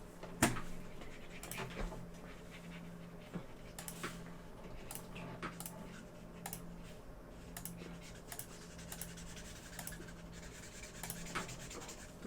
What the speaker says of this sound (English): I'm gonna color it now.